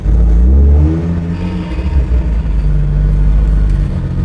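Toyota Land Cruiser 80 Series engine held in a low gear under load to bed in new piston rings, a deep steady rumbling drone that swells early then settles, close and loud.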